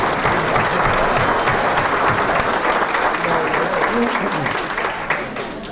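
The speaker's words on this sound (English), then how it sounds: "So if we could give them a round of applause." An audience at an education hall of fame induction dinner claps steadily and enthusiastically, a dense wash of applause that tapers slightly toward the end.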